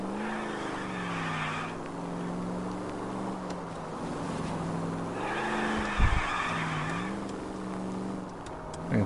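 A 1940s car speeds through L.A. Noire with its engine whining and wavering in pitch. Brief tire squeals and skids cut through near the middle and again at the end, and no one talks.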